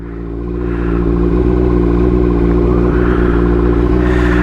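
A Honda CBR motorcycle engine rumbles close by, swelling in the first second and then holding a steady, throbbing note with a faint mechanical clatter.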